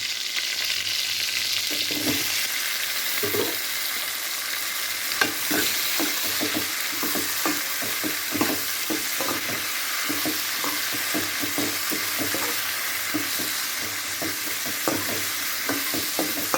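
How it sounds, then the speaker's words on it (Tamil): Cleaned mushrooms sauté in a hot pan with a continuous close sizzle, while a spoon scrapes and stirs in frequent rhythmic strokes; no talking. "இப்போ வதங்கிடுச்சு நம்ம சுத்தம் பண்ணி வச்ச காளான சேர்ப்போம்"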